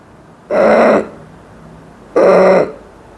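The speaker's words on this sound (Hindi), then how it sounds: "जब हम श्वास को अंदर भरेंगे साउंड के साथ गले को टाइट करके, तो खांसी आएगी।" Two loud, noisy breaths drawn in through a deliberately tightened throat during a yoga breathing class, each about half a second long with a short pause between them, heard close up with no talking.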